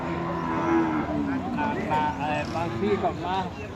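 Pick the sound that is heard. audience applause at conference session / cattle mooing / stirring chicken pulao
cattle mooing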